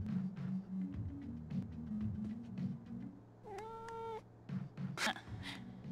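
A cat in the video game Life is Strange lets out a single drawn-out meow midway through, fairly faint over a low background hum.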